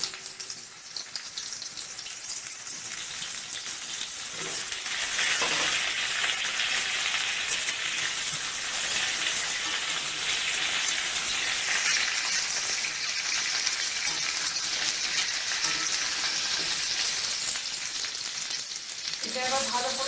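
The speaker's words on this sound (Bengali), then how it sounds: "এটা এবার ভালো করে লাল লাল করে ভেজে নেবো" Diced potatoes and pointed gourd frying in hot oil, a dense continuous sizzle and crackle that stays strong and steady throughout, close and loud.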